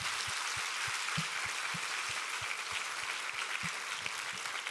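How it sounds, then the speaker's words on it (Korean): A congregation at a summer revival church service gives steady, sustained applause. The clapping is continuous and fairly distant throughout, with soft low thumps recurring in a loose rhythm underneath. "우리 하나님께 감사와 영광의 박수 올려드리겠습니다."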